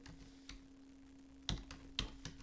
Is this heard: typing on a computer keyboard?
yes